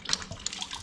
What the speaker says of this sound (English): Watch this when I open the cap